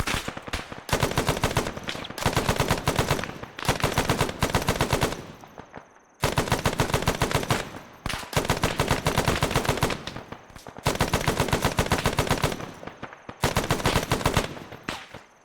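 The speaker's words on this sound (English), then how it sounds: "Sounds like they're shooting through these bushes out in front of us." Sustained machine-gun fire in Arma 3, shot through bushes: long rapid automatic bursts separated by brief pauses, loud and close, with no talking.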